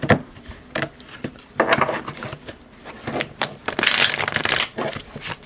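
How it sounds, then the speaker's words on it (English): A deck of playing cards is shuffled up close, giving repeated riffling bursts and sharp snaps, with a longer riffle near the end ending in the bridge of a shuffle break. "these are the cards I can shuffle. This is the shuffle break."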